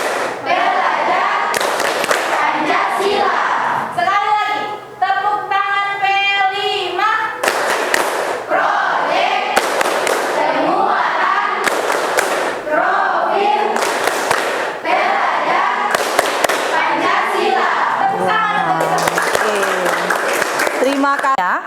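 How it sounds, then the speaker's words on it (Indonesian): A group of schoolchildren performs the P5 clapping ice-breaker in a classroom, loud rhythmic bursts of hand claps alternating with shouted chanting voices, repeated in several rounds. "Sekali lagi, tepuk tangan P5."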